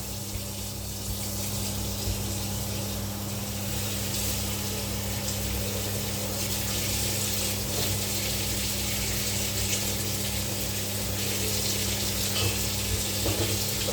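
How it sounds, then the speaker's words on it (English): A spatula rinsed under a running tap, steady water rushing and hissing continuously into a sink with a constant low hum beneath, no speech. "I'm just gonna rinse off the spatula"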